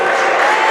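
A high school varsity boys' basketball crowd in a gym roars loudly all at once, a dense and continuous wall of voices shouting for a foul.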